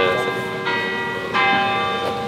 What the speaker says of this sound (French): Pourquoi il y a les cloches qui sonnent à midi moins 15?